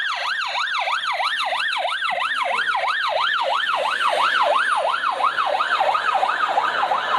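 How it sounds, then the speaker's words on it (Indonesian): A toy fire truck's siren wails in a rapid, regular up-and-down cycle, loud and close, repeating continuously without pause and with no talking. "ternyata ada mobil pemadam kebakaran bosku"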